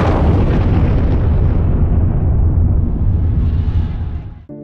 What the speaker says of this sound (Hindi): एक जोरदार धमाका हुआ, जिससे सारी बस्ती जलकर खाक हो गई।